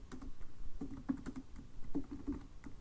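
Fingers type code on a computer keyboard, a quick irregular run of close, light clicking keystrokes in short bursts, with no talking.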